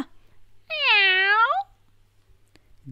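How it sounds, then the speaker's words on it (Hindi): A single kitten meows once, clear and close, from a litter of five kittens lying on a blanket in a cardboard box; otherwise quiet. "गत्ते के डिब्बे में एक कंबल में बिल्ली के पांच बच्चे"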